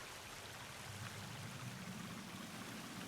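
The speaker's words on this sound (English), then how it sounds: "Near running water, but I don't want to." Running water from a stream in the video game Sons of the Forest gives a faint, steady trickling wash that holds constant throughout, with no voices.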